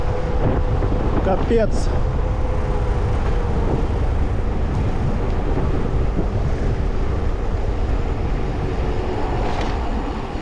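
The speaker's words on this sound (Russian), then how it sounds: "Вот это ветер" Heavy wind buffets the microphone in a constant loud roar, with a brief spoken exclamation near the start, in Crimea in May.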